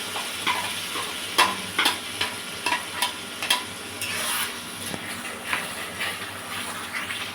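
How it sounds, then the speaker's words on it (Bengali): Onions frying with ginger, garlic and chilli paste for chicken kosha, stirred in a pan: a steady sizzle with repeated scraping clicks of the spoon, close and fairly loud, no voices. "এবার আমি যে আদা রসুন লঙ্কা পেস্টটা করেছিলাম সেইটা এবার পেঁয়াজের মধ্যে দিয়ে দিচ্ছি।"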